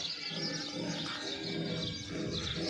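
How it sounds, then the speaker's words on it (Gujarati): Steady sparrow chirping at a farmhouse around dusk, a dense run of small bright tweets close by, with faint cooing and low ambient rumble underneath. "જો ચકલાનો અવાજ કરે છે."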